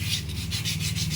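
Sandpaper scrubs back and forth over the rusty shaft of a window-type air conditioner, a close rhythmic rasping with several quick strokes and no talk.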